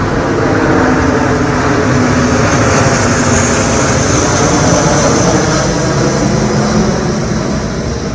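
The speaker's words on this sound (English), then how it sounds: "as soon as this plane goes by, I will give you my disclaimer" A propeller airplane passing overhead outdoors near a power line, its engine drone loud and steady throughout with a broad broadband roar and no talk.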